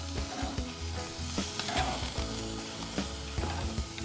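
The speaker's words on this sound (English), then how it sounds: "Now I'm going to give them a flip." Zucchini, yellow squash and red peppers sizzle on a grill while being flipped, giving a quiet steady crackle with several distinct clicks and taps of the turning utensil.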